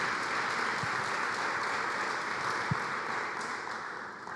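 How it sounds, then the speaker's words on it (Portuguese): A church congregation gives a steady, moderately distant round of applause with a soft, even texture, interrupted by a couple of brief low thumps. "Pode aplaudir ao Senhor"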